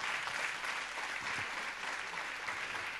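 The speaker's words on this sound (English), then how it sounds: "an applause for Stefania" Audience applause for a speaker at a tech event on future cities, a steady, fairly distant wash of many hands clapping that stays even for the whole short stretch.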